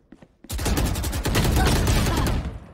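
A dense volley of rapid gunfire from a Valorant deathmatch bursts in after a brief quiet start and sustains loud, sharp repeated shots for about two seconds before tapering.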